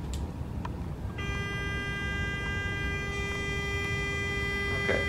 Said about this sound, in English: that's a 400 hertz frequency